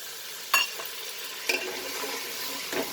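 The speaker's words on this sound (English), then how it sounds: "I'll add little bit of water" Water hits masala cooking in a hot pan with a sizzle, followed by steady frying hiss and a couple of sharp stirring clinks.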